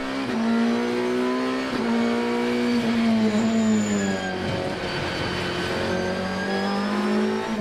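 Ferrari and Audi race cars accelerating at a race start near Tarzan corner, loud, close engine notes rising and shifting through gears, several machines overlapping in a sustained roar.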